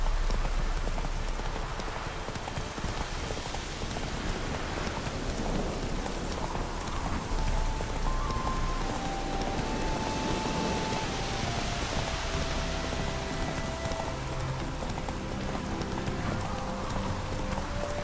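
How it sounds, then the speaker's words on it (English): Steady rain falls in The Witcher 3 by barracks, a constant hiss of drops on surfaces with a horse's hooves clip-clopping faintly beneath, continuous and moderately quiet throughout. "No use doing any work in this rain"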